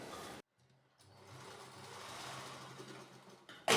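Stitching on a girl's frock, a sewing machine hums at an even, quiet pace for a few seconds after a brief pause, followed by a sharp burst of handling noise at the end.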